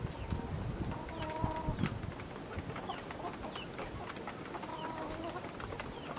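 Fourteen-week-old chickens cluck softly at a distance against a steady, noisy outdoor background, with a couple of short clucking phrases standing out.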